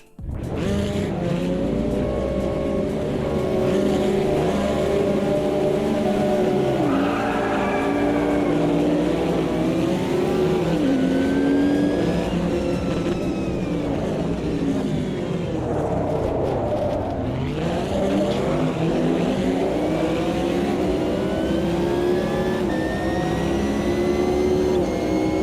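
Porsche race car engines roar steadily in an AMS2 sim racing game, a continuous loud drone with rising and falling revs and gear shifts, shifting pitch as cars pass close by, with no talk over it.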